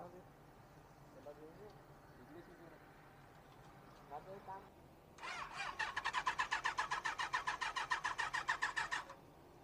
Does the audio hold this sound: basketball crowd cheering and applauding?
no